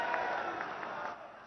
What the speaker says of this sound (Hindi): एक बार जोरदार तालियों के साथ स्वागत।